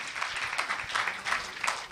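Conference audience applauding its moderators: dense, steady clapping from a crowd across the whole stretch, moderately loud with no talk over it.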